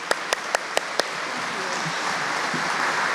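A conference audience at the WITS 2023 opening and keynote breaks into dense, sustained applause, a few sharp louder claps standing out at the start before the clapping settles into a steady wash of many hands.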